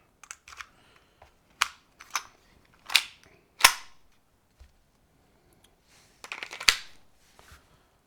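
A Tokyo Marui USP Compact airsoft pistol dry-fired with no BBs loaded gives sharp, close mechanical clicks, about eight or nine in irregular pairs and singles with short pauses between them and no talking.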